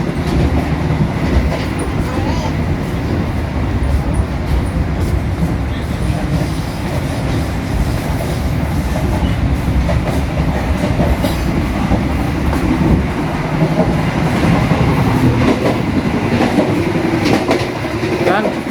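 A passenger train rolls along the rails, heard from inside the restaurant car, with a continuous loud rumble, rhythmic clickety-clack of wheels and occasional squeal, with faint voices underneath.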